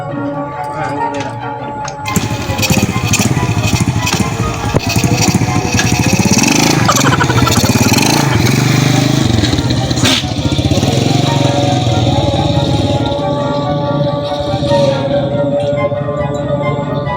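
Motorcycle engine running loud and close, a steady rattling idle that swells after the first couple of seconds and keeps going with uneven ticking bursts throughout.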